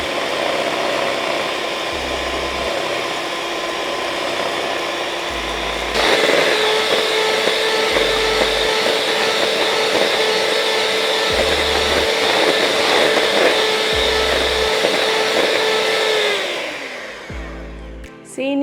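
An electric mixer whirs loudly and steadily as it beats cake batter with flour and eggs for a butter cake. It jumps to a higher, stronger pitch midway, then winds down to a stop near the end.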